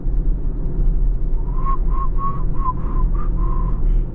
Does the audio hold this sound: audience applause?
no